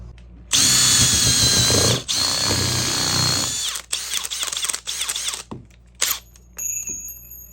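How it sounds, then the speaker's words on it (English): A power drill driving hard, then slipping into hammer mode with rapid rat-a-tat bursts, loud and close, with stops and restarts and a short ratcheting end. "sometimes you go into hammer mode, you get a little bit of the rat-a-tat"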